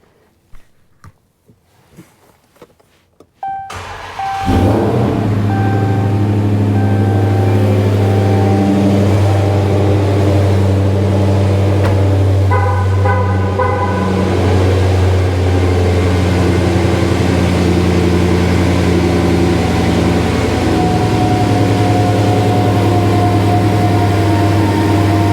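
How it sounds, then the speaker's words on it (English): A Hellcat cranks and fires up after an oil change, then settles into a loud, deep, steady idle that runs on for about twenty seconds with a faint whine above the rumble and no talk. "time to start the car."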